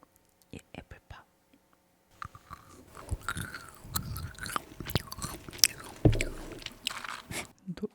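Frozen apple pop jelly crunched and chewed close to the mic in an ASMR setting, with crisp bites and wet chewing after a quiet start and a few soft mouth sounds and whispers.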